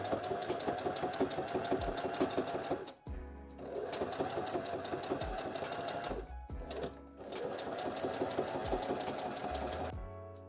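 Sewing machine stitching pieces of a fabric dollhouse bedroom, running in three steady bursts of rapid mechanical clatter with brief pauses between, close and loud.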